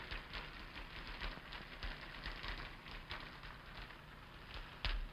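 Rain falling, a faint, steady patter with scattered drip-like ticks and a soft crackle throughout, with no voices.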